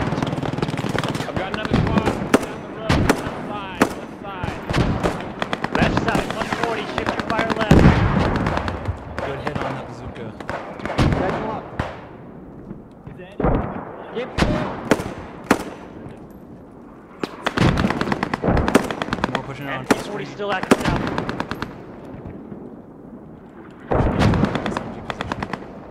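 Gunfire and artillery in a WWII video game set at Arnhem during Operation Market Garden at night, with repeated loud bursts of automatic fire and heavy booms, some near and some distant, over intermittent radio-style voices.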